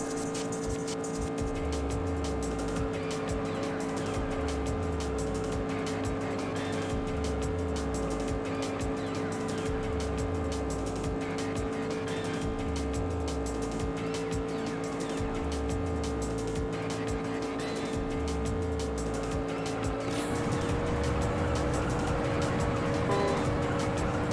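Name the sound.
Mazda MX-5 car racing with nitrous in video game Juiced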